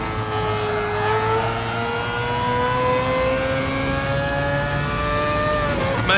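Race car engine in a racing video game, revving hard through a long right-hand bend, a steady high-pitched whine climbing slowly in pitch, loud and continuous, with a brief shift or blip near the end.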